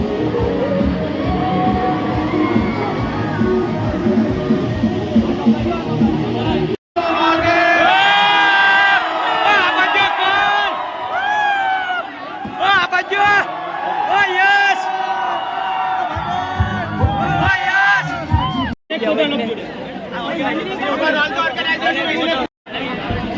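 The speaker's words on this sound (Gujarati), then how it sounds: "ધ્રુવ દેસાઈ માટે એકવાર જોરદાર તાળીઓ" Loud, dense crowd noise at a college party in Surat, with cheering, whoops and shouting running nearly the whole time, broken by a few brief gaps, while an announcer's voice talks over it.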